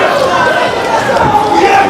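Wrestling crowd yelling loudly and continuously at a last-man-standing match, a dense roar of many voices with a commentator talking over it.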